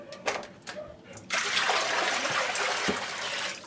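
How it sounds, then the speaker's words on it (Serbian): Water poured out of a filter container after scrubbing, a few small drips and clinks, then a sustained loud rushing pour close by that continues to the end, with no talking. "Pa prosuti svu vodu."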